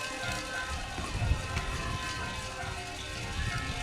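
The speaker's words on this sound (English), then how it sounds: "As the rain starts pouring down here at the Shrewsbury Aquatic Center" Heavy rain pours down at the Shrewsbury Aquatic Center during a 200-meter freestyle swimming heat at the OECS championships, a dense steady hiss of downpour with low rumbling underneath, continuous throughout.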